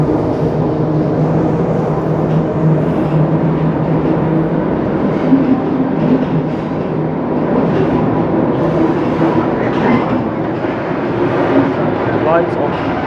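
On board the heritage train F1, a loud continuous rumble of wheels and running gear with low droning tones, heard from inside the carriage for the whole stretch, with voices faintly under the din.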